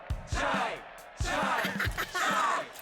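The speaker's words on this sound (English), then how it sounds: "And the crowd goes wild." A game crowd cheers and whoops in Hi-Fi Rush in three loud swelling bursts of mixed yelling voices, each rising sharply and then fading.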